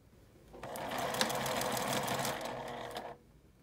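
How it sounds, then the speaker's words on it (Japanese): A sewing machine stitches a seam on a handmade child's backpack, with one close, steady run of rapid mechanical clatter that starts abruptly, carries on for about two and a half seconds and then stops in a quiet room. "もう一方は1センチ縫って返し縫いをしてゴム通し分3センチ開けてまた下まで縫います。"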